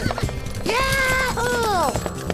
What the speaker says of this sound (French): Et moi, j'aurai même un cheval.